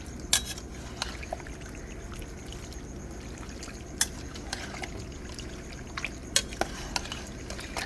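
Cut-up beef fat rendering into tallow in a pot, stirred with a utensil: a faint steady sizzle with occasional sharp scrapes and clinks, close by.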